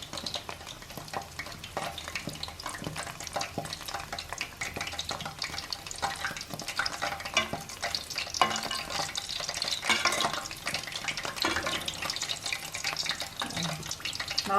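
Chana dal masala vadas fry on a low flame, giving a soft, continuous bubbling sizzle of oil with faint crackles that stays even and fairly quiet throughout, with no talking.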